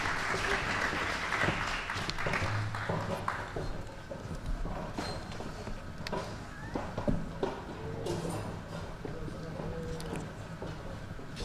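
A city planning meeting audience claps for the Back of the Yards proposal team; a dense burst of applause fills the first few seconds, then thins to scattered clapping under a speaking voice.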